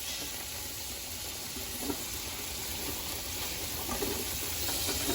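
Garlic sizzles in avocado oil in a pan for shrimp in tomato sauce with angel hair, a steady broadband hiss with faint crackles, close and continuous with no talking.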